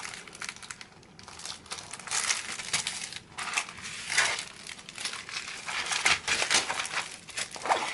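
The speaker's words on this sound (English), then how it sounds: "I can find the opening of the plastic here." Plastic bag holding a kit of tiny special beads in ten colors being handled and opened up close, with steady crinkling and crushing rustles that swell and fade across the whole stretch, sometimes with small bead-like clicks.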